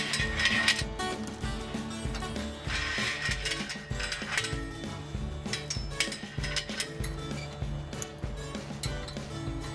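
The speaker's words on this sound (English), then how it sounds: "Wind the winch to wrap the chain around the shaft until the Wrangler takes the animal's weight" A Wrangler belly winch is wound to wrap its chain around the shaft, giving a steady run of metallic ratchet clicks, clanks and grinding gear noise, close up and continuous, with no voices.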